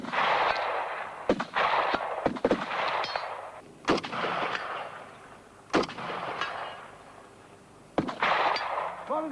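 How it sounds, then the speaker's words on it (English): Bursts of gunfire from SA-80 rifles and a light support machine gun crack out in irregular volleys during an infantry combat shooting exercise, with sharp distant reports echoing across open ground. "they have an SA-80 rifle and light support weapon machine gun"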